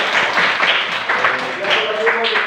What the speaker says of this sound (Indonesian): tepuk tangan buat Debbie.